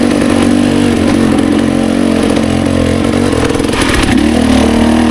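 A motorcycle on a mountain trail in Idaho, fitted with a VE33S tire, drones loud and close with a steady engine note that surges briefly as the rider revs over rough ground.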